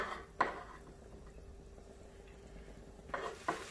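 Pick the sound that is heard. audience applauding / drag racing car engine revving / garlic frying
garlic frying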